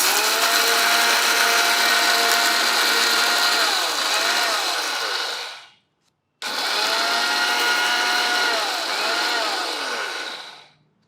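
A mixer grinder grinds lentils for chutney in two loud, steady whirring bursts, each winding down, separated by a short silence, with no talking.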